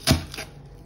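A knife chops green onion on a cutting board in a home kitchen, giving one sharp close tap and then a softer second tap within a second.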